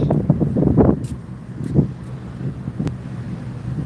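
Wind gusts buffet the microphone at a riverbank in low rumbling bursts, with a few faint clicks and a quieter steady airy background.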